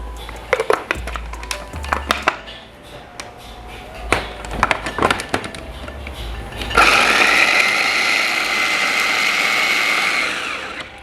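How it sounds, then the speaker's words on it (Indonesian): A kitchen grinder whirs continuously through onion and spices for a fried chicken meatball recipe, starting abruptly after a few scattered clicks and knocks and running steady and loud to the end. "Oke, ini untuk rempah-rempahnya kita giling dulu sebentar."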